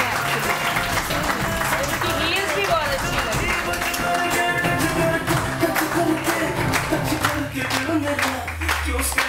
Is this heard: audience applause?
yes